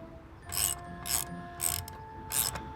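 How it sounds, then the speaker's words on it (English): Locking washer and nut being tightened by hand on a Mercury outboard motor during a service, four evenly spaced bursts of ratcheting clicks, close and fairly quiet, with no talking. "now I just got to put this locking washer and nut"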